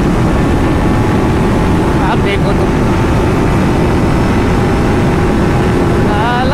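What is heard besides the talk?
Kawasaki Ninja 300 and TVS Apache RR 310 motorcycles drag racing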